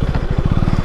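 A motorcycle engine idling close by, a loud, rapid, even putter of firing pulses with a rough, throbbing low tone.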